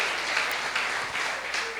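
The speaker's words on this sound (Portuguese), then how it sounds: "Você pode dar um aplauso ao Senhor Jesus?" A church congregation claps steadily, a dense wash of many hands applauding together that holds at an even level throughout without voices rising above it.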